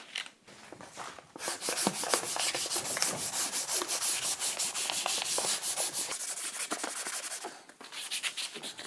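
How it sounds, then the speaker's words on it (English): Fine 240-grit sandpaper rubs back and forth across the varnished wooden feet of a massive table, a close, steady rasping in rhythmic strokes that continues for several seconds. "Let's do it with a sanding paper"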